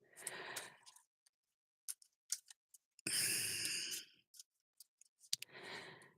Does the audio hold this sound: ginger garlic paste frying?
no